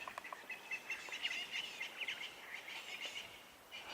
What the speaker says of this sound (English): It sounds like we've got some unhappy ground birds in the drainage line.